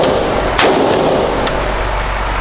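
A single sharp gunshot cracks once at an outdoor gun range among friends, loud and near, followed by a fading ring and steady low background rumble, with no talk.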